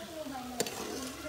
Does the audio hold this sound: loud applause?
no